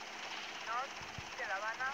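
A helicopter in the video game GTA, a steady droning rotor and engine hum under someone talking, continuous and moderately loud.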